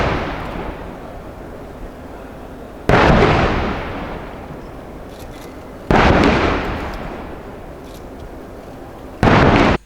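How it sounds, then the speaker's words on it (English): Three booming artillery blasts from a 21-gun salute at a presidential ceremony in Abuja, each loud report rolling off in a long echoing decay before the next, spaced roughly three seconds apart. "While President Muhammadu Buhari and Paul Biya mounted the podium for the 21-gun salute"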